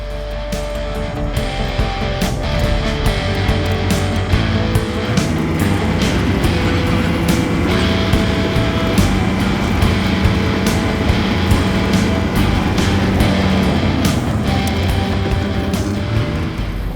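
Tucker 2000 Snowcat running while driving, a steady loud low engine drone with rumbling mechanical clatter and drivetrain noise, continuous throughout without talk.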